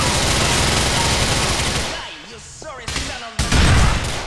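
AK rifle in GTA IV fires dense, rapid bursts of automatic gunfire, loud and close. The shooting stops briefly and then resumes with fresh sharp shots.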